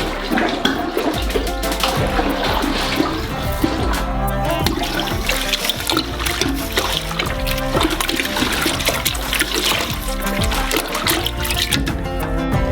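Orange juice with sugar and flavoring is thoroughly mixed in a large batch for a giant gummy worm, producing continuous sloshing, splashing and churning liquid sounds up close.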